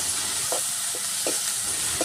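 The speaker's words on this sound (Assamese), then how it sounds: "পিঁয়াজটো অলপ ৰঙা কৰি ল'ম এতিয়া জলকীয়া আদা নহৰু পেষ্ট ইয়াত এড কৰি দিম" Onions fry in oil with chili, ginger and garlic paste, a steady loud sizzle broken by several brief spatula stirs and scrapes close up.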